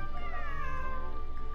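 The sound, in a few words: cat meowing in video game Genshin Impact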